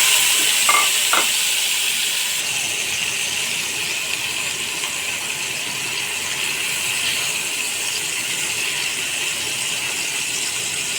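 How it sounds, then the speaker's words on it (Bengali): Shrimp fry in hot oil in a pan, giving a continuous loud sizzle close up with a brief metallic scrape near the start. "প্যানে তেল গরম হয়ে গেছে এখন চিংড়ি মাছগুলো ঢেলে দিচ্ছি"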